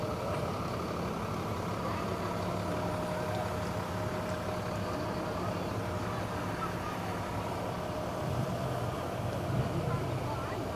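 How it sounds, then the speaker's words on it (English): A red fire truck from a fire department rolls along in a downtown Fourth of July parade, its steady engine rumble blending with constant crowd noise and chatter throughout. "beautiful red shiny fire truck"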